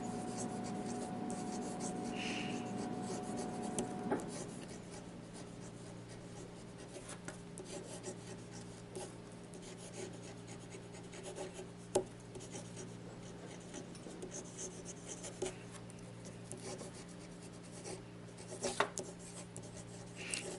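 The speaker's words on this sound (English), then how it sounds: "And for some quick writing." A Jinhao fountain pen nib scratching across paper in quick, continuous strokes, close and quiet, with soft rubbing texture throughout.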